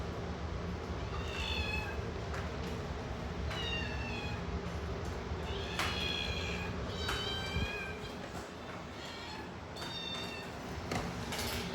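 Hungry Bengal kittens meow repeatedly at early-morning feeding time, several overlapping cries rising and falling over a steady indoor background hum, close and fairly loud.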